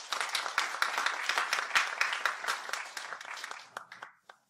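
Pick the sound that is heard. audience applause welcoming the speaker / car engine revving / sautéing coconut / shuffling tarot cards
audience applause welcoming the speaker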